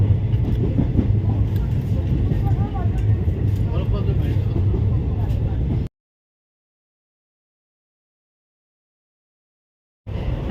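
An overnight passenger train bound for Badami rumbles along with a steady, close interior drone and muffled voices. The sound cuts out completely for a few seconds before resuming.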